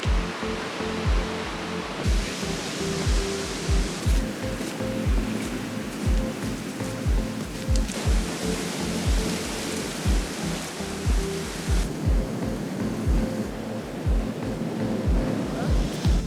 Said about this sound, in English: So I'm just gonna walk along some of the beaches here this morning.